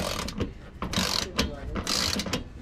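Close ratchet clicks come in several short bursts with pauses between them as bolts are torqued down on a 2020 Dodge Charger after an oil and filter change.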